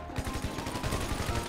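Rapid gunfire from the video game GTA V Online, a steady run of sharp shots fired in quick succession at close range, loud and continuous with no talking.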